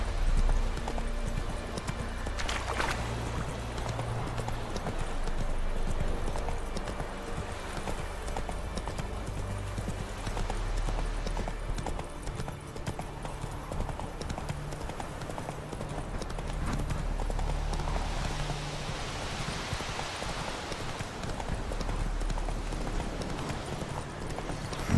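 Roach, a horse in The Witcher 3, clip-clops along steadily at a walking pace. The hoofbeats stay continuous and fairly loud under game music and ambience, with a brief voice early on.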